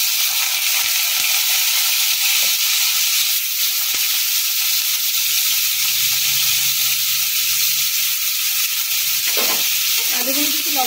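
Salted potato pieces fry in hot refined oil for pasta, giving a loud, steady sizzle and hiss that runs the whole time with no talk, plus a brief stirring scrape near the end.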